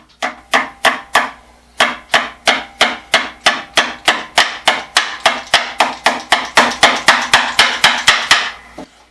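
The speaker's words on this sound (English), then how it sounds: "Now, this is a pretty small hammer" A small handmade hammer strikes wood or a nail in a steady run of about thirty sharp, close knocks, each ringing briefly, with no voices.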